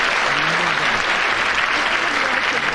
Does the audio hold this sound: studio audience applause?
yes